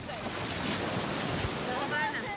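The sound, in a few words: sea waves breaking on a beach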